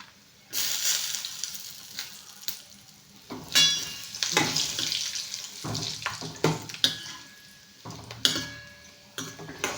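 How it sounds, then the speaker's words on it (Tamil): Ingredients tossed together into hot oil, a bursting sizzle that rises and falls with stirring and clatter, close up and with no talk. "எல்லாமே ஒன்றாவே போட்டு பொரிச்சு எடுத்துடலாம்"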